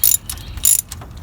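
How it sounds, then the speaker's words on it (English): A ratchet fitted with a 15 mm socket loosening water pump bolts on a 1984–2001 Jeep Cherokee XJ, giving two close, bright bursts of rapid clicking with fainter clicks between, no voices. "I'm going to go ahead and put my 15 millimeter on"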